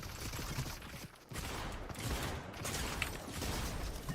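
Rapid gunfire in a video game, with continuous bursts of shots and mechanical clatter filling the whole stretch, loud and close, dropping out for a moment before the firing resumes with no talk over it.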